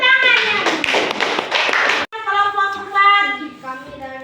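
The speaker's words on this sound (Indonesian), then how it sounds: "Tepuk tangannya" Classroom applause for a student group, children clapping in quick irregular taps over bright, chattering young voices, then a short break followed by sustained sung or chanted children's voices.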